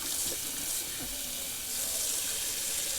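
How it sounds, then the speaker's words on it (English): A bathroom tap runs steadily into a sink to rinse shaving whiskers away, a soft continuous hiss of flowing water, close and even, with no talking. "Just going to rinse that a little bit there because there's all those whiskers sticking to the side there"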